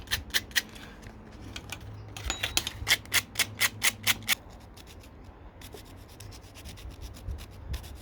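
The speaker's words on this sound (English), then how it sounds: "Let's just clean up the terminals." A brush or abrasive scrubs the electrical terminals of a Ford Escort Mk2 RS2000 tail light in quick, rhythmic back-and-forth strokes, close and fairly loud, in bursts with short pauses between them.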